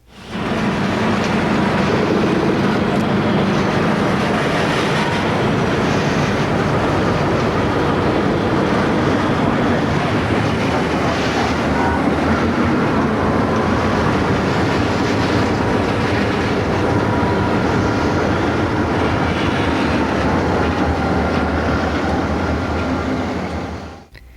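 A lash-up of Detroit Toledo and Ironton and Grand Trunk diesel locomotives rumbles past close by, a loud, sustained roar of engines and rolling wheels that carries on for the whole stretch without talk.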